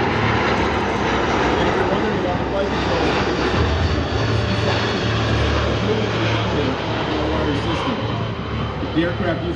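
Boeing C-17 Globemaster III four-engine military jet transport at the 2009 California Capital Air Show, a loud continuous engine roar holding steady throughout, with crowd and voices blended underneath.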